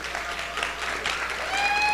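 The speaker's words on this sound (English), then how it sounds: "so please give a round of applause for Rashonda." Audience applause at a family day gathering, a steady burst of clapping from a crowd lasting throughout, fairly close and moderately loud.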